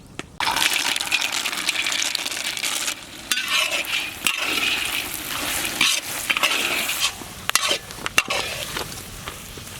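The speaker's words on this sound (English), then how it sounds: "we have to keep on fire until onions become brown color." Onions fry in a hot pan with a steady, dense sizzle that runs throughout. Occasional sharp scrapes and clinks from stirring sound close up, and no one speaks.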